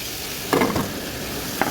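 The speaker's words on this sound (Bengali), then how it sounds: "এখন আমি ভাজার জন্য একটু পরিমাণ মতন অল্প তেল দিয়ে দিব।" Hot cooking oil sizzles softly in a pan, with a short bright burst of frying and stirring noise partway through and another brief flare near the end, set to fry nola fish with potatoes and eggplant.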